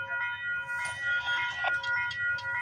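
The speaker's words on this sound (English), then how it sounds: "we got a CPKC eastbound train coming down the line" A CPKC eastbound train approaches along the line at Bartlett Avenue in Toronto, with steady engine rumble and a sustained multi-tone horn chord rising and swelling, fairly close and loud.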